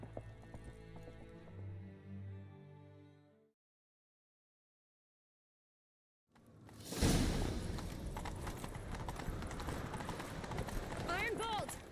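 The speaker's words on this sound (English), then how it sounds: "Grab a horse, we'll chase him down." Horse hooves gallop in Witcher 3 as a chase begins, loud and busy after a stretch of music and a silent gap, with rushing movement and game effects layered over a steady rapid beat.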